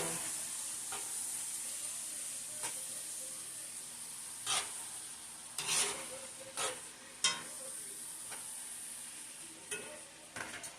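Butter sizzles softly in a pan for cooking oxtails, a steady faint hiss broken by several brief stirring scrapes and clatters of utensils against the pan.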